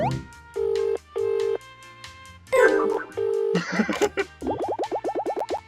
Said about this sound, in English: Please wait 1 second while I phone my boss.